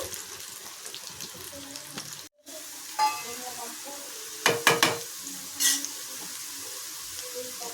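Cauliflower fries in oil for gobi 65: a steady, close sizzle with a short break, followed by several louder scraping and clinking stirs.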